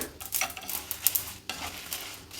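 Close scraping and stirring in a pan as black peppercorns, mustard seeds and dried Byadagi and green chillies roast, with brief rustling strokes and a faint sizzle.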